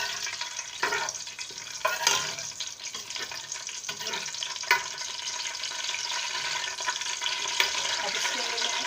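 Green chillies and whole spices crackling in hot oil for a masala biryani, a steady sizzle broken by scattered sharp pops and a few louder spits, close and unaccompanied by speech.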